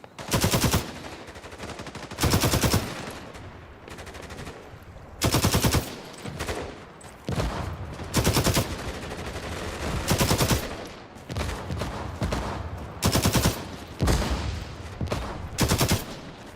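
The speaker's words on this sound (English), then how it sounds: "I'm the machine gunner, so I'm supposed to suppress, right? That's why I'm doing this." Machine gun fire in a Cold War multiplayer shooter game, with loud sustained bursts of automatic fire repeating every second or two over a steady din of gunfire and battlefield noise.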